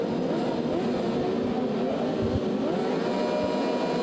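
A pack of Superstock 600 racing motorcycles drones and revs together at the race start at Imola, a steady loud roar with no voices.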